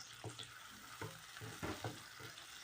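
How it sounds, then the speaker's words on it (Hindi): Boneless chicken fries with garlic and spices in a pan, giving a faint, low sizzle broken by soft scrapes and taps of a stirring spoon at an uneven pace. "और इसको फ्राई करती हूँ थोड़ा सा"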